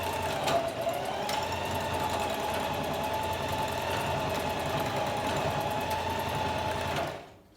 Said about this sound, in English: So we're going to sew the elastic together.